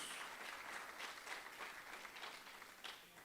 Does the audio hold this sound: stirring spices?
no